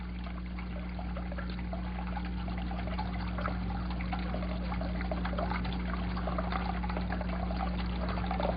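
Water slowly released from a container, a steady trickling pour over a continuous low hum, lasting throughout at an even level with no talk.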